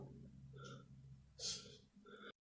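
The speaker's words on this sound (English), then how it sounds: "He farted." A fart plays from a video, a single short, faint puff in the middle of quiet background noise, followed by a few soft sounds before an abrupt cut to silence.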